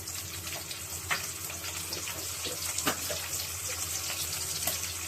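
Idli pieces frying in a pan with capsicum for idli chilli 65, a steady close sizzle with faint stirring scrapes, no talk.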